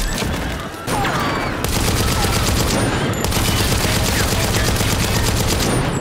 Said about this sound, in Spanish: empiezan los balazos